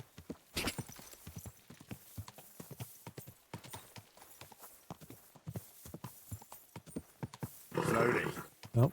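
Steady horse hooves clip-clopping at a slow walk in the Kingdom Come: Deliverance II video game, regular rhythmic beats up close, with a louder whinny or snort burst near the end.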